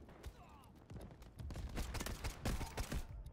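Gunfire from the video game Delta Force: Havoc Warfare, a string of sharp shots and short bursts at mixed distances, building in density and loudness toward the end over low game ambience.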